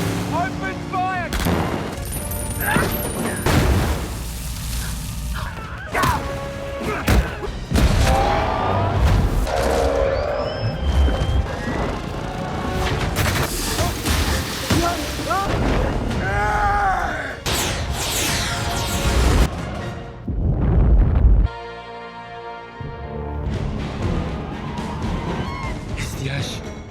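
A film battle scene from Avatar: Fire and Ash, packed with loud, continuous gunfire, explosions and machine-gun bursts amid shouting and groaning voices, with brief lulls between dense volleys.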